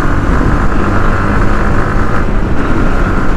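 Yamaha MT-15 motorcycle on the move, with a steady, loud wash of wind and road roar over a low engine drone that continues without a break and with no talking.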